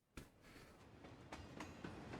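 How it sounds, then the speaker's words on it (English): A train arrives in a visual novel game, with a rolling rumble and a run of rhythmic clickety-clack wheel beats on the rails, steady and fairly loud throughout. "my ears are filled with the sound of the arriving train."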